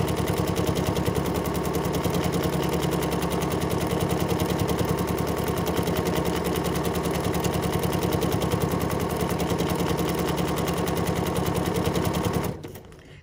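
A sewing machine runs a dense decorative satin stitch with variegated thread, a loud, fast, even mechanical rattle that continues without a break for about twelve seconds before stopping abruptly.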